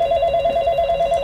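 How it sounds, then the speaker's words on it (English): A telephone rings in a film scene set in a joint operation command center, a steady electronic warbling tone holding throughout, close and clear with no talk. "The phone rings,"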